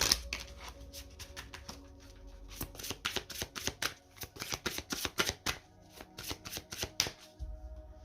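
A deck of oracle cards is shuffled and cut by hand, producing close, crisp riffling flutters and repeated sharp card slaps in a quick, uneven rhythm.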